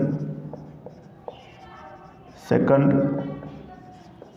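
Chalk or marker scratches across a board during a physics lesson, with short scraping strokes and taps heard under a teacher's steady speech in a small room.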